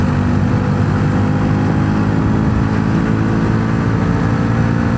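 Bajaj Pulsar NS400 motorcycle, a 2025 model fitted with a quick shifter, accelerating at speed, its engine note a steady loud drone mixed with heavy wind rush throughout, with no talk.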